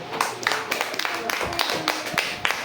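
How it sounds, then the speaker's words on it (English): Students in a classroom clapping in a loose, uneven round of hand claps, with scattered sharp strikes and a teacher's voice faintly underneath. "So give them a clap to try."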